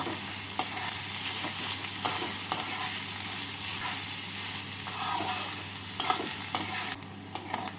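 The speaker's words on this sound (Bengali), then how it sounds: "এর মধ্যে আমি দিয়ে দেব তিনটে বড় সাইজের কুচনো পেঁয়াজ পেঁয়াজটাকে হালকা লাল করে ভেজে নেব" Chopped onions, three large ones, fry in a pan for mutton keema ghugni while a spoon stirs them, a steady sizzle broken by irregular scraping clinks, close and alone with no talk.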